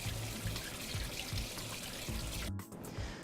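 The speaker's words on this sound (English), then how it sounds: "when you are rinsing beans, you just put it in a colander like this" Canned black beans being rinsed under running water in a colander, a steady close pour and trickle with a short dip in flow near the end.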